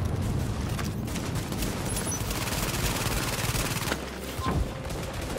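Pistol gunfire in the Tom Clancy's The Division video game, a dense, loud burst of rapid overlapping shots and booms filling the whole clip with no pauses.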